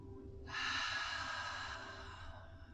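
A slow, deep inhalation taken during a pilates back stretch, a steady breathy rush rising quickly and held for about two seconds before tapering off, close and fairly quiet.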